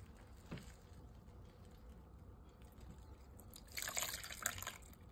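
Filtered water poured into a container holding a sprouting sweet potato, heard as faint scattered drips in a quiet room before a brief, brighter splashing pour near the end.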